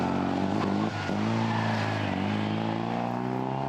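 A BMW 2002 Ti rally car at the Legend Boucles Bastogne rally, its engine droning steadily and loud up close, with the pitch shifting briefly as it changes speed.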